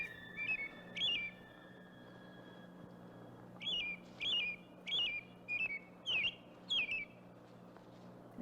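A bird repeats short, sharp whistled chirps in a film scene, two early calls then a rapid run of about seven more, clear and fairly close over a low steady hum.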